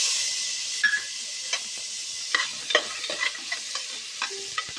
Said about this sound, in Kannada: ಒಂಚೂರು ಅಡಿಗೆ ತುಪ್ಪಡು ಫ್ರೈ ಆವಡು